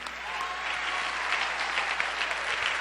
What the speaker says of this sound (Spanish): le damos un fuerte aplauso a Jesús